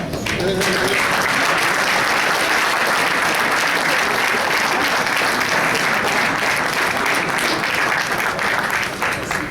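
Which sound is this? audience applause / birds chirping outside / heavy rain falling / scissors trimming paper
audience applause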